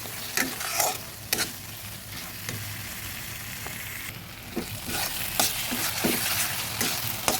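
Sesame and mustard paste fries in a pan for a Katla fish curry, a steady low sizzle broken by repeated sharp scrapes and knocks of a spatula stirring it, close and alone.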